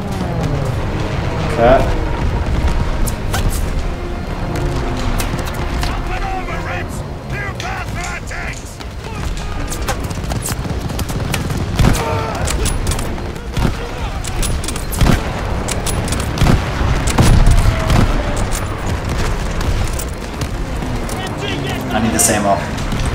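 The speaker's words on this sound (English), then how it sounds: "Here come the bombers!" Bombers attack during a Call of Duty Vanguard battle, with loud, dense booms, explosions and gunfire rumbling continuously alongside shouted voices.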